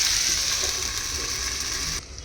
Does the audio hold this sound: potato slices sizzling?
yes